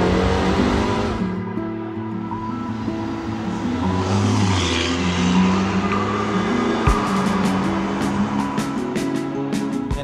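Ferrari California T driving through the city streets of Monte Carlo, a steady engine drone heard from inside the car with faint tire and road noise and a few soft clicks, no voices.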